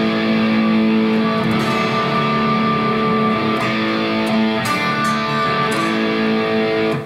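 Distorted electric guitar plays the pre-chorus of a song, sustained chords ringing with steady loud density and a few accented changes, no voice.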